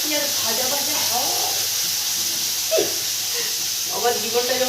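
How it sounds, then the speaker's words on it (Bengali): Food sizzles and hisses steadily in an oily pan in a home kitchen, loud and close, with a metal spatula stirring and someone talking over it. "ফ্রাই করতে হবে একটু ভালো করে"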